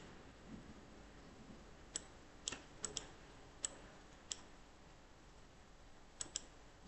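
Faint, sharp computer mouse clicks, about nine spread irregularly across a quiet room, some coming in quick pairs, with no one talking.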